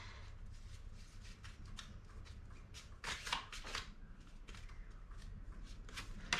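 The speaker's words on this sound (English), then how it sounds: "Let's pull some cards, all right?" Tarot cards pulled and slid from a deck, soft close papery flicks and riffles in quick irregular bursts, faint and alone.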